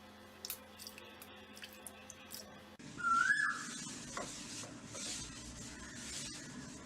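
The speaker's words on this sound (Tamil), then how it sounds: "இப்போ மாவு ரெடி நம்ம ஊற்றலாம்" Watery rice flour batter seasoned with pepper is poured into a pan, bringing a sudden soft, wet rush midway that settles into a steady close hiss.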